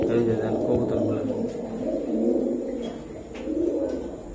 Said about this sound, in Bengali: এই যে দেন কবুতর গুলা